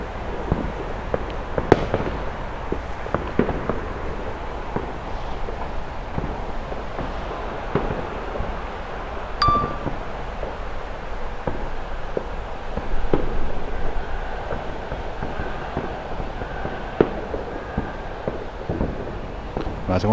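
Bonfire night fireworks go off around football grounds at Goodison and Anfield on a match day, distant pops and crackling bangs scattered across a steady outdoor rumble, with someone talking quietly at times.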